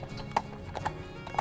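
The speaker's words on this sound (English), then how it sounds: "you can always go by horse-drawn carriage" Horse-drawn carriage hooves clip-clopping on pavement outside an inn in historic Southport, three distinct hoof strikes spaced about half a second apart over a low steady background rumble.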